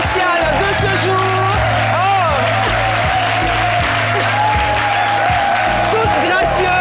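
A TV studio audience applauds to welcome a special guest on a midday show, broadband clapping running loud and steady beneath musical tones and a sustained bass note, with a voice briefly over the din.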